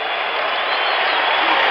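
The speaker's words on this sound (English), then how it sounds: "Listen to the crowd." A basketball arena crowd at an NBA Finals game cheers and applauds in a loud, continuous roar that holds steady throughout.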